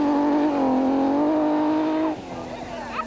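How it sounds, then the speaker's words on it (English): A Nissan Skyline rally car's six-cylinder engine growls loudly and close at a 2001 gravel rally stage, a strong harmonic howl that holds, then drops away abruptly as the car passes. "Just listen to that 6-cylinder growl."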